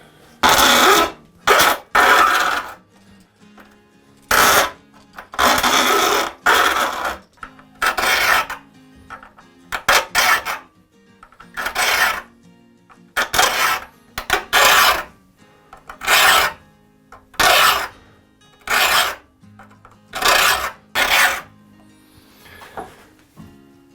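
A hand file rasps starting cuts for saw teeth into a steel saw blade, loud short scraping strokes repeated in an even rhythm with brief silent gaps between them.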